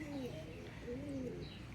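A pigeon gives two soft, close cooing calls while held in the hand with its wing spread, set against steady background hiss and room noise.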